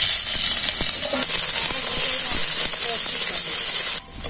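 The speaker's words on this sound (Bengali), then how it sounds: "আলু গুনাকে বেজে নই" Potatoes frying in hot oil in a village kitchen, a steady loud sizzle and hiss with faint scraping and clinks, cutting off briefly near the end.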